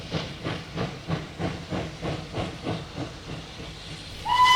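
Rhythmic steam puffs chuff and hiss in a steady beat, like a steam train working, with a short whistle-like tone at the end.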